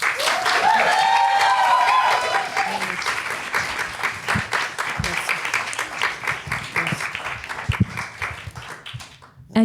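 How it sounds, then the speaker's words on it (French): An audience gives a warm round of applause for a guest speaker, a full burst of many hands clapping with a few whoops early on, gradually thinning into scattered claps before stopping abruptly. "faire un tonnerre d'applaudissements pour Agnès Maemblé"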